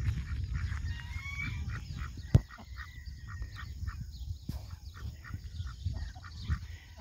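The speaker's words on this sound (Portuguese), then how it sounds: "Aqui tem um casalzinho de patos." A pair of ducks quacking and honking intermittently at a moderate distance by a reservoir in Ceará, Brazil, over a low outdoor rumble, with a couple of sharp knocks.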